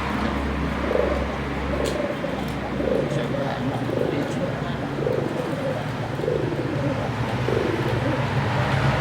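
Pigeons coo in soft, low repeated phrases close by, with a steady background hum and people murmuring nearby.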